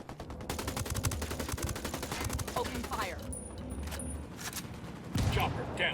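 Rapid bursts of automatic gunfire from Tom Clancy's Ghost Recon Wildlands crackle close and loud, a dense rattling volley followed by scattered shots and further firing, with voices around it.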